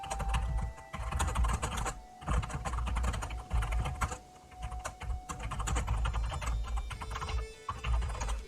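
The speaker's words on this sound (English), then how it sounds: "As you can hear from me happily typing away" Fingers type rapidly on a computer keyboard in dense bursts of close, clicking keystrokes with short pauses between runs, no talk heard.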